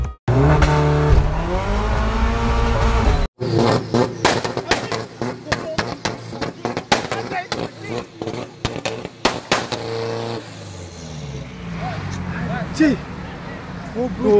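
A tuned car engine sits on launch control holding its RPM, firing rapid, loud popping bangs in uneven bursts; a voice speaks over the start and again near the end.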